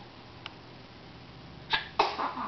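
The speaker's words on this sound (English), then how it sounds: "Oh, full body sneeze." A small, sharp sneeze bursts out, followed by a second, fuller sneeze with a brief breathy trail, close by in a quiet room.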